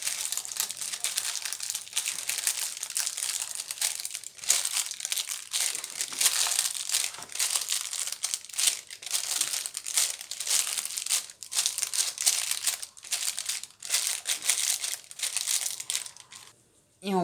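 Steady crinkling and crunching of paper being pressed down onto a bar of solid shampoo, close and continuous, with a brief rustle near the end.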